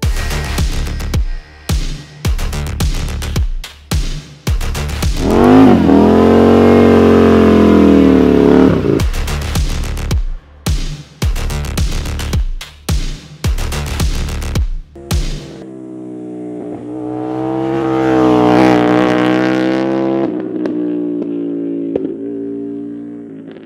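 Indian FTR 1200 S motorcycle exhaust revving loud and close: a run of sharp, choppy throttle blips, then long sustained revs rising and falling, another burst of blips, and a final extended rev that swells and fades.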